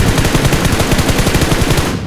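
A rapid stream of loud gunshots fires in an even, fast rhythm for about two seconds during a PUBG tournament match, with the AWM sniper rifle in play.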